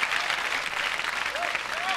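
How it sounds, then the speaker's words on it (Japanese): Steady applause from an audience, a dense wash of clapping throughout. "この拍手ですよ"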